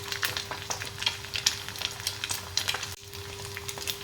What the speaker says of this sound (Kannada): 2 ಕಡೆ ಚೆನ್ನಾಗಿ ಫ್ರೈ ಮಾಡ್ಕೋಬೇಕು